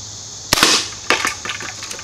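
Pump BB gun fired at plinking targets, left to right: two sharp close cracks, a third crack about half a second later, then fainter ticks of pellets hitting.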